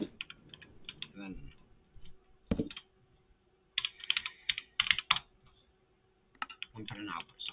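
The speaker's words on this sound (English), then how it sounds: "Then we'll just do F for fuel, because I don't feel like typing it all out." Computer keyboard keys clatter in quick, close bursts of clicks separated by brief pauses, with someone talking between and over the typing.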